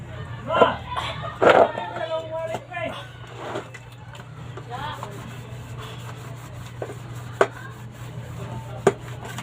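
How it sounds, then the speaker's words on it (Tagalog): Dishes being washed by hand, with scrubbing and rubbing noises and a few sharp clinks of plates, while a person talks and sings over it. "Hugas-hugas ng pinggan."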